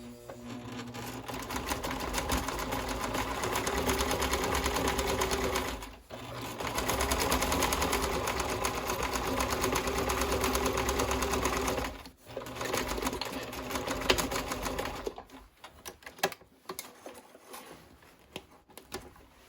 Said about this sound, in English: you may have to go very slow or manually sew over this French seam